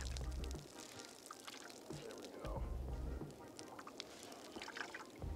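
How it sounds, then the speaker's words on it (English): Wet tie-dyed t-shirts wrung out by hand, water pouring and dripping in uneven trickles and splashes up close, with a brief spoken remark. "We're gonna ring dry these bad boys. We still want them wet, but not like dripping wet."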